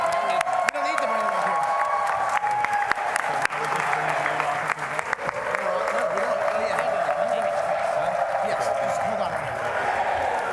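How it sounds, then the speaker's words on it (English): A banquet crowd gives sustained applause for award winners, dense clapping filling the room for the whole stretch, with scattered cheers and a continuous hum of voices beneath. "One more round of applause for our 8 award winners."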